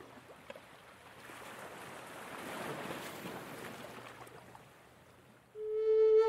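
A boat moves on open water, a soft wash of waves and wind that swells in the middle, faint and distant, before a brief tonal sound cuts in at the end.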